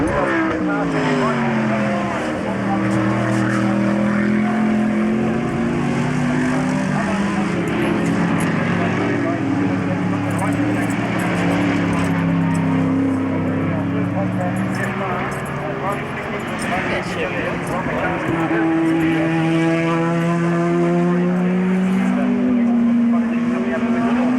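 Australian Sports Sedan race car engines whine and drone loudly throughout at Baskerville in 1991, pitch climbing and falling as cars pass, with commentary voices running underneath.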